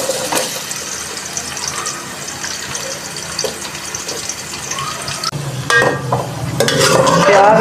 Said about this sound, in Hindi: हम इसमें प्याज फ्राई कर लेते हैं।